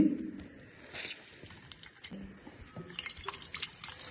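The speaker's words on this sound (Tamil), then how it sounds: "சூப்பரா வருது நிறைய நிறைய ஜூஸ் வருதுப்பா" Liquid drips and trickles in soft, irregular splashes, close by and fairly quiet, with light handling noises around it.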